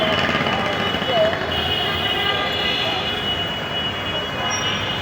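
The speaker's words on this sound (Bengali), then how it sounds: "মেট্রো রেল যাচ্ছে, মেট্রো রেল চলমান।" A metro rail train runs past in Mirpur, Dhaka, a steady loud rumble of wheels on track with a brief squeal, continuous throughout with faint street background.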